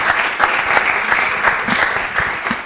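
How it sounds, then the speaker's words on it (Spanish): Audience applause at a school show, a steady dense wash of clapping from many hands, loud and continuous throughout without a break. "Un aplauso, por favor, para ella."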